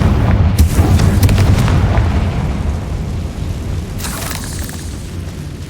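A Confringo blasting spell goes off in the wizarding game Hogwarts Legacy, a deep loud boom that rumbles and slowly fades, followed by a softer crackling burst partway through.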